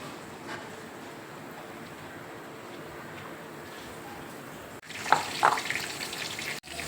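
Mushroom pakoras in besan batter frying in hot oil, a steady soft sizzle that grows louder and busier toward the end as fresh pieces hit the oil.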